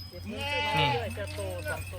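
A goat on a goat farm gives a single wavering, nasal bleat up close, lasting about a second, with a low steady hum beneath it.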